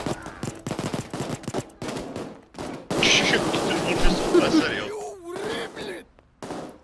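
Rapid bursts of gunfire in the video game Payday 2 crackle and rattle, with a dense, loud stretch of shooting in the middle and voices talking over the action.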